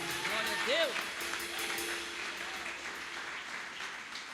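A church congregation applauds during a Sunday family service, a moderate wash of clapping with some voices and tonal calls rising briefly over it.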